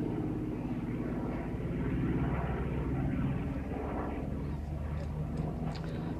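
Grumman Bearcat piston fighter flying at an air show, a steady loud low engine roar and rumble that holds throughout with slight swelling midway, no talk over it.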